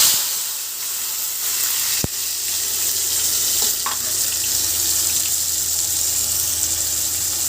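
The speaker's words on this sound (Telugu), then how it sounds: "ఆయిల్ మరిగింది." Onions, tomato and green chillies sizzle steadily in hot oil, a continuous close frying hiss with a sharp clink near two seconds and faint stirring noises, no voices.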